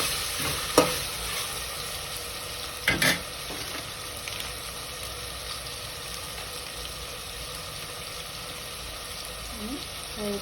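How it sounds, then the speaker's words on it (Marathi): Khichadi being stirred in a pot after salt is added: a quiet, steady sizzling hiss with two brief spoon scrapes near the start, no talking. "आणि चवीनुसार मीठ टाकून घ्यायचं आणि मिक्स करायचं."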